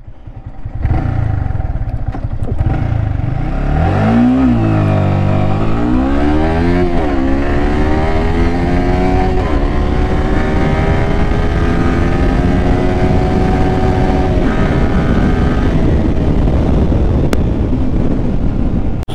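A Yamaha R15 V3 motorcycle fitted with a BMC air filter and running Motul 10W-40 oil accelerates hard from 0 to 120, its engine climbing through several gear changes, loud and close under heavy wind noise.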